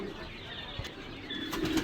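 Pigeons kept in a room converted into a pigeon loft coo softly while wings flap in short bursts, close by and fairly quiet, with faint rustling in between.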